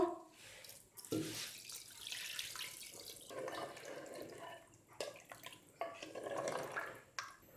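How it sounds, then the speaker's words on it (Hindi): Water runs from a tap into a pot in a home kitchen while mutton kunna is being prepared with spices and ginger-garlic paste, a steady close splashing stream with short pauses and small clinks. "इसके अंदर मैं तीन कप पानी के डाल रही हूँ फिर मिक्स करती हूँ इसको"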